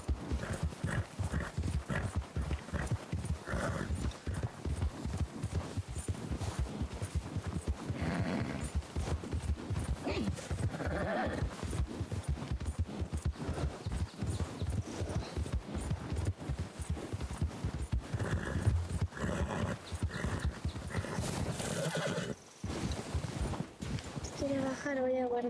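Horses galloping through snow in the RedM game, a steady rapid clip-clop of hooves running throughout, with someone talking over it most of the time.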